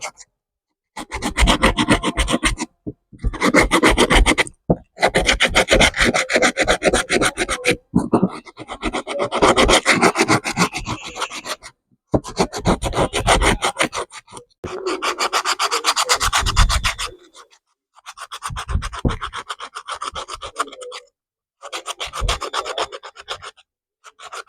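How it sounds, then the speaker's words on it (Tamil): A coconut shell's outer surface is rubbed clean in a series of dry, rasping scrubbing strokes. They come in bursts separated by short pauses, close and fairly loud, with no talking. "ஃபுல்லாக வெளியே 2 பக்கம் க்ளீன் அந்த மாதிரி தேய்ச்சி எடுத்துக்கலாம்."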